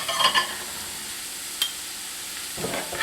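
Beef tips sizzling in a pan, a steady close frying hiss with a few brief stirring clicks and scrapes over about three seconds.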